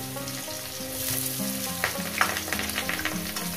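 Chopped onion and green chilies fry in a pan of hot oil with cumin seeds, a steady close sizzle broken by a few sharper crackles and spatters, with no voices.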